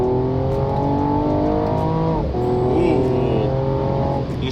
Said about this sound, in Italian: in Sport Plus fa tutto lei, il cambio ritorna in automatico, le cambiate sono precise, porta fino a fondo scala a 6500 giri